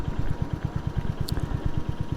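Royal Enfield Hunter 350 single-cylinder motorcycle engine while riding, a steady, close, even thumping pulse of firing beats under wind noise, with a brief higher blip partway through.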